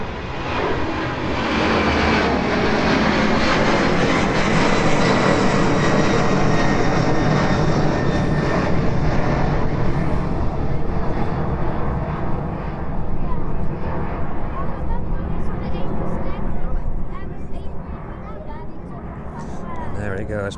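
A light airliner takes off from East Midlands Airport with a loud, sustained engine roar that slowly fades as it climbs away, while a commentator talks over it.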